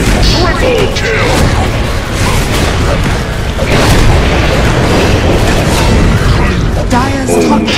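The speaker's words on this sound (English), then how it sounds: "Dire's top tower is under attack." Loud, continuous Dota 2 battle noise around a tower under attack: overlapping booms, impacts and ability effects form a dense, unbroken din, with brief voice fragments mixed in.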